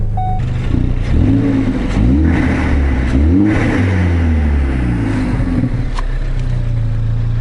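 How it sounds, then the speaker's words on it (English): A Ford Focus engine revs up and down repeatedly with a deep, throaty intake roar through an upgraded open-element intake filter, loud and close, rising and falling in pitch. "All it is the intake, upgraded intake filter with the open end"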